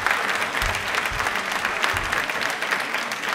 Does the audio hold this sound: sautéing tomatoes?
no